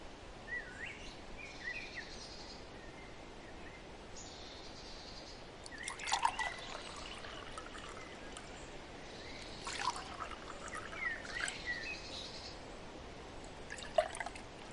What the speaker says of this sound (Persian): مقداری از شربت رو داخل آب بریزید.